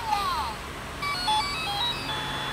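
A toy cell phone plays a short electronic ringtone melody of bright, beeping notes under talk. The phone comes from a child's subscription box.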